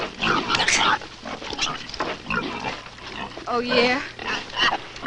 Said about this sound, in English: Let the little ones in, you pig!